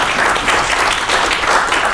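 An audience at an academic colloquium on anti-racism in higher education claps, a brief burst of dense, close applause that stays loud and even throughout.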